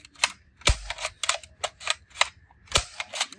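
A toy super gun fires a series of sharp, snappy cap-like pops, several distinct cracks spaced irregularly over a few seconds, fairly close and loud with no talking.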